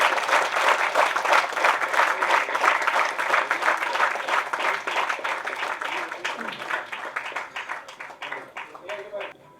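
Audience applause at an award ceremony honouring social workers, loud, dense clapping that gradually thins and fades toward the end as a voice begins to speak over the last few claps.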